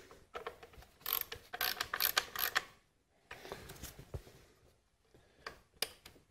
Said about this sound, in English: I'll use a ratchet to snug them down, get the coil locked down into place